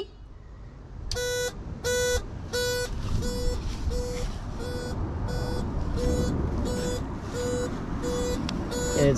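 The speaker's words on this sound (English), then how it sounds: "It has a horn." Electronic horn on an enclosed, non-assisted pedal bicycle whose shell forms the frame: roughly eleven evenly spaced, bright beeps sounding close over a steady low background rumble.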